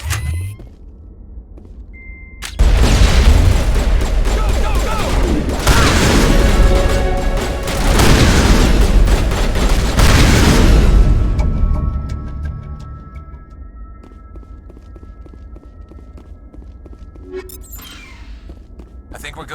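Mass Effect combat erupts in a sudden burst of gunfire and explosions, loud crackling shots and booms packed densely for about nine seconds, then fading to sparse distant hits and quiet.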